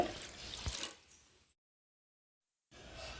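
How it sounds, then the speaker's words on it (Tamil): Water trickles and splashes into a pan for about a second, fading out, followed by silence and then faint background noise. "கடாய் வச்சுருக்கிற அரை செம்பு தண்ணி சேர்த்துக்கிறேங்க"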